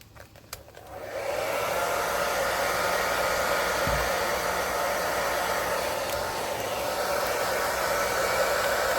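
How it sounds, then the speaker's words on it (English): A hair dryer blows on polymer clay pendants to dry them. It switches on after about a second, then holds a steady, loud, close whooshing hum that stays level throughout. "I could take my hair dryer to them a little bit, and that would probably dry them the rest of the way"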